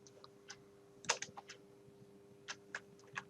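Keys pressed on a computer keyboard, including the tab key, while a table is laid out in a PC class: scattered, fairly quiet clicks with one louder cluster near the start and several isolated taps afterward.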